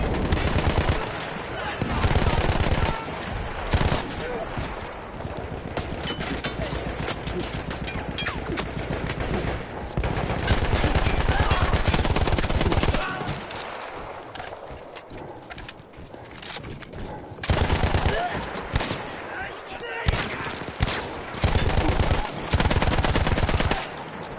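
A mounted machine gun on Battlefield 1's Austro-Hungarian front fires long, loud, close bursts that break off and resume, with horse hooves and other gunfire mixed in and some talk.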